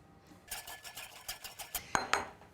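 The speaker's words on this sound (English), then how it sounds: "And then all we have to do is just whisk this up." A black pepper marinade is whisked in a bowl, giving a quick series of light, fairly close clinks and scrapes, with two sharper metallic taps near the end.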